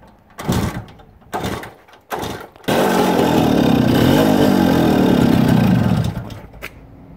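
A 1968 BSA D14 Bantam 175cc motorcycle is kicked over three times in short bursts, then its engine catches and runs steadily for about three seconds before cutting out, close and loud.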